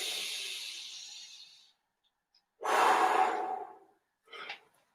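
Breathing during an exercise routine: a long exhale, a pause, then a second strong breath out and a short final puff, close and clear with no talking.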